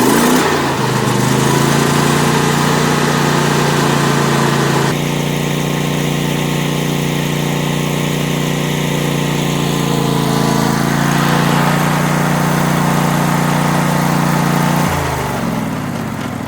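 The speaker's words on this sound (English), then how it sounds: "you just start it like normal, pull your choke, full throttle, and just give her a go" A Cub Cadet LT1046 riding mower with a Kohler Courage twin-cylinder engine runs loud and close at full throttle, holding a steady drone with a slight pitch shift midway before winding down at the end.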